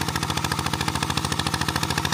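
A small walk-behind tractor modified into a ride-on, plowing soil in Erawan district, Loei, runs its engine in a rapid, steady chugging beat, close and continuous throughout.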